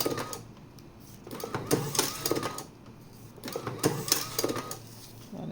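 Full electric cigarette rolling machine cycling in bursts of mechanical clatter and whirring, with quieter pauses between passes, close up and moderately loud.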